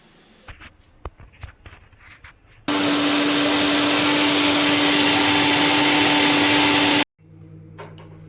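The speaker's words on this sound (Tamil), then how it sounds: "இனி இது எல்லாத்தையும் நைஸாக அரைச்சி மாவு பதத்துக்கு எடுக்கணும்" A kitchen grinder whirs loudly and steadily for about four seconds as it turns soaked black chana and a little rava into smooth dosa batter. Faint clicks and handling noises come before it, and it cuts off abruptly.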